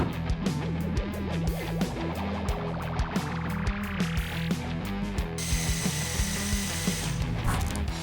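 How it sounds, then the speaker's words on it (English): A power drill whirs through a wooden table frame nearby, its pitch rising as it bores, followed by a higher steady whine and some mechanical clicking. "we're drilling holes in the frame itself"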